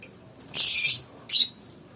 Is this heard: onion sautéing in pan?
no